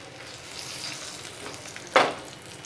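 Flat beans frying in a pan give off a steady, soft sizzle, broken near the end by one sharp clatter of a utensil against the pan. No voices are heard.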